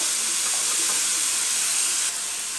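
Stuffed capsicum masala roasting in a pan, a steady close sizzling hiss with no talk, easing slightly toward the end.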